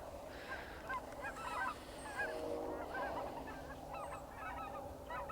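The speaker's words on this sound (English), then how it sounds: "Oh, there's some geese." Geese honk repeatedly at a distance outdoors in early spring on rural acreage, a scattered chorus of nasal calls over a low steady background.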